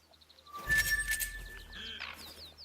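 Ducks flying in during a duck hunt in the video game theHunter: Call of the Wild, with a burst of rushing wing and splash noise, chirpy calls and clinks, moderately loud and close.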